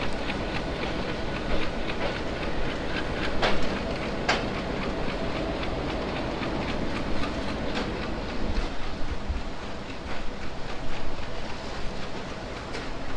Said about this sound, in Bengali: যশোর জংশনে আমাদের ট্রেন প্রায় দুই মিনিট যাত্রা বিরতি করে এখন চলছে সে তার পরের স্টেশনের দিকে